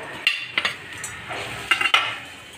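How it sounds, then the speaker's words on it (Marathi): Jaggery melting in a kadhai while being stirred, with scattered metallic scrapes and clinks of a spoon against the pan over a faint sizzle. "आता आपण आधी कढईमध्ये गूळ टाकून घेऊया, जेणेकरून गुळामधले जे खडे ते मेल्ट होऊन जातील."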